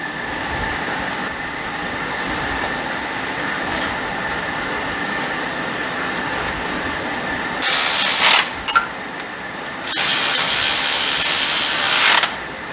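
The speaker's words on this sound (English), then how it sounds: "Let me get this thermostat housing off." A hand ratchet loosens the bolts on a car's thermostat housing on a supercharged engine, with short bursts of rapid clicking ratcheting near the end after a quieter stretch of background hum.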